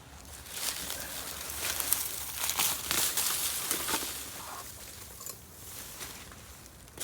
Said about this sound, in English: Some of this grass I'm just pulling, I'm not quite getting the roots out.